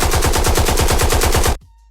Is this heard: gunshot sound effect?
yes